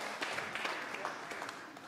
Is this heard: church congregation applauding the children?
yes